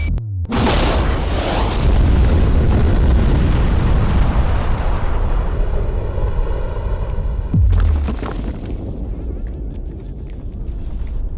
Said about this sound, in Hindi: ये एक असली धमाका है।